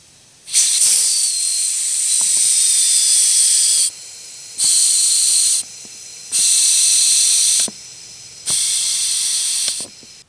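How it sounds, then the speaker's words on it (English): Four bursts of hissing air through a John Deere mower's carburetor float needle valve, each steady for about a second or more, separated by brief silences and faint clicks. "what we should hear is air flowing through when the float is down"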